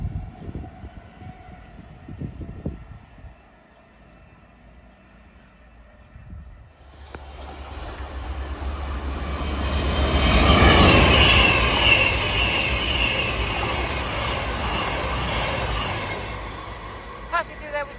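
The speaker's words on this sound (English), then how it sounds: "Passing through now is a cross-country service from Bournemouth to Manchester Piccadilly." Cross-country passenger train passing through Hinton Admiral station, starting quiet then a swelling roar of wheels and rail noise that peaks midway with brief squeals and stays loud as the carriages rush by.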